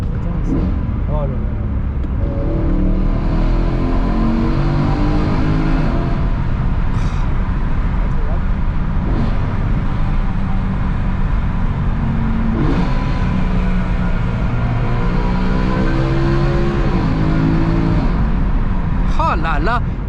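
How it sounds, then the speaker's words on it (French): Mercedes-AMG C63 V8 engine revving and accelerating hard in max mode, a loud continuous roar with rising and falling pitch sweeps and jerky surges, heard from inside under excited talk. "C'est vrai que le son du V8, franchement, c'est quand même une chose."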